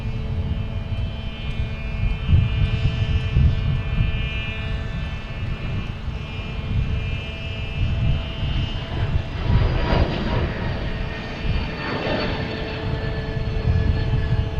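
A jet taking off at Boston Logan Airport, a steady loud engine roar with broadband rumble that swells and holds over the whole stretch, no voices.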